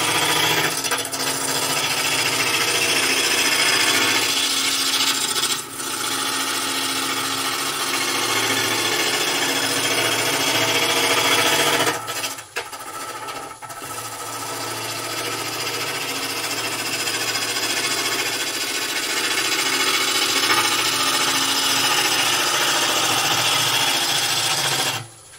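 Wood turning on a lathe shapes a goblet, giving a loud, continuous whirring and scraping from the spinning blank and cutting tool, with one brief drop in intensity midway and no talking.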